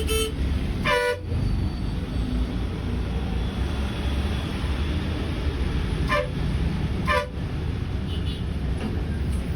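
In a stalled traffic jam near Hosur, heard from a KSRTC bus on the highway, car horns sound several short honks over a steady low road rumble.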